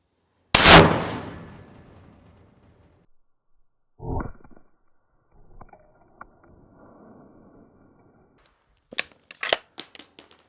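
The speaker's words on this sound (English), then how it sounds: "This is silver tip 50 cal shot number 2." A silver tip .50 caliber sniper rifle round strikes a concrete highway barrier with one sharp, loud crack that decays quickly. Faint handling knocks and clicks follow, then a cluster of small sharp ticks near the end.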